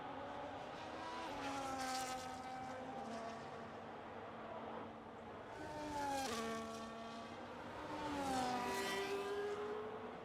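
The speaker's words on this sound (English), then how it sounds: "Into turn 1, the Ferrari." A Ferrari race car in a sim racing game runs through turn 1 at the Japanese GP, its engine note rising and falling through shifts and cornering in three distinct swells, heard alone.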